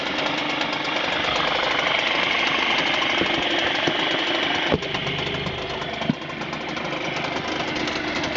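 A Mercury 5hp outboard engine runs steadily close by, a continuous knocking drone at idle with a couple of brief sharp clicks partway through and no talking.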